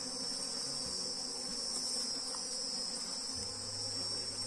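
Bees around beehive frames, a steady dense insect buzz holding evenly throughout at moderate volume, with a low hum underneath and no voices.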